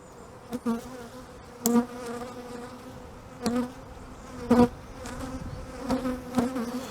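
Honeybees buzz around an open hive during a spring inspection, a steady drone with louder individual bees passing close by every second or so.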